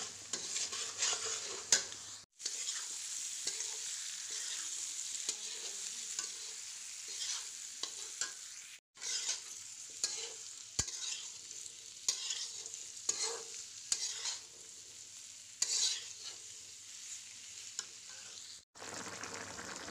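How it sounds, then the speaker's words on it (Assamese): Steady, loud sizzling of onions and spices frying in a pan, with a few brief pauses and occasional scrapes of stirring. "এয়া পিঁয়াজ মছলাখিনি ভাজি ল'লোঁ"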